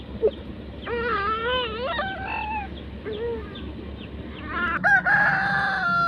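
Fighting roosters at a cockfighting venue crow loudly and repeatedly, one long drawn-out cock-a-doodle-doo followed by further crows and clucks from nearby birds.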